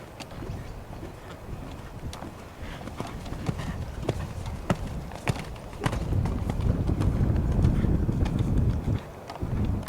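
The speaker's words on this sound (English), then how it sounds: "what we're going to try and do is then work on a more expressive canter" Hooves of a horse cantering on an arena surface toward a jump, a steady rhythmic clip-clop of repeated footfalls at moderate distance, with wind buffeting the microphone.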